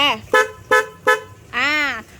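Three short horn toots from a 2023 Honda Forza motor scooter in quick succession followed by one longer, sustained honk, loud and close with nothing else around.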